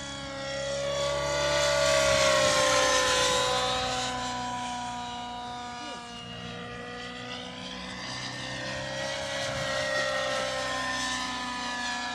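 A T-Rex 700 Nitro Pro RC helicopter flies a speed run, its nitro engine and rotor whine rising and falling steadily as it passes back and forth, loud and continuous with no talk.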